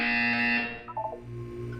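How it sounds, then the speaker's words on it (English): A harsh, loud electronic buzzer in the Portal 2 video game sounds for about half a second, then cuts off, followed by faint softer tones and quiet background hum. "You will hear a buzzer."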